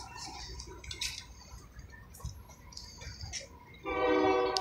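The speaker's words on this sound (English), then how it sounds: "you can see the train passing" A local freight train passes a railroad crossing in the rain, with rumbling rail noise and scattered clanks under the rain. A sustained horn-like tone rises loudly near the end.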